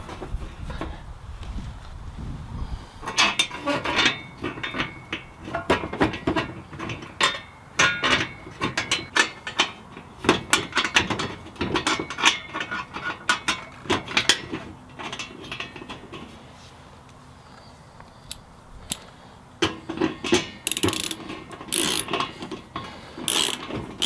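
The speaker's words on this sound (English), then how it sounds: "I'm going to go ahead and put the plate back on." Metal plate being refitted onto a wood boiler, with a run of irregular clanks, taps and ratcheting mechanical clicks close by, pausing briefly before sharper metallic knocks near the end.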